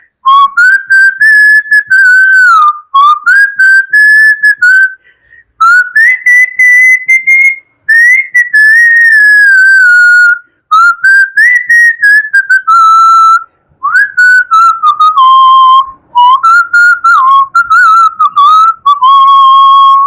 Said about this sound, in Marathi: मी शिट्टीतून गाणं म्हणून दाखवणार, ते गाणं कुठलं आहे ते आम्हाला आवर्जून सांगा.